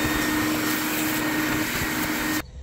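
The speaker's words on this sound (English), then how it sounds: "let me get the vacuum" Vacuum cleaner running steadily at close range with a constant whine, sucking out a mouse nest inside a 2003 Jeep Grand Cherokee WJ Laredo, then abruptly switched off near the end.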